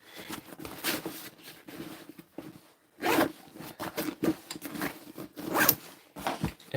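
A drone backpack zipper is pulled open and shut several times up close, with quick rasping strokes and short pauses between them.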